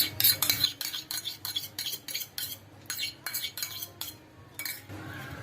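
A spoon stirs ghee into roasted wheat flour in a metal pan, giving a series of sharp clinks and scrapes in an irregular rhythm, close and fairly loud, with no talking.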